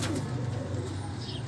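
Teddy pigeon cooing up close, a steady low throaty coo rolling on continuously for the whole moment.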